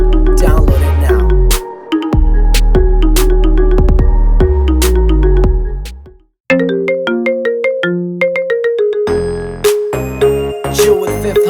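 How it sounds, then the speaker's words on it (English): A ringtone, a loud, punchy electronic phone tune with a heavy bass thump and bright synth notes in a repeating rhythm. It cuts out briefly, then moves into a plucky melodic section and a chiming run. "By far one of the dopest ringtones you could ever slap."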